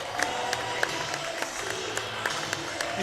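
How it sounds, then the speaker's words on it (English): A crowd at an independent pro wrestling championship event applauds a wrestler after a falls count anywhere match, with steady cheering and scattered sharp claps over a dense, roomy murmur. "let's hear it one more time for Simon Miller!"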